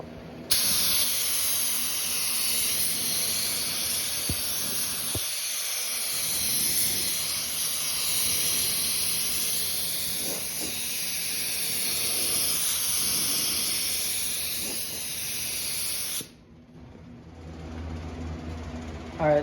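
A spray gun lays a pearl paint coat on a 1969 Camaro with a steady, close, loud hiss lasting about sixteen seconds, then stops abruptly, leaving a quieter background.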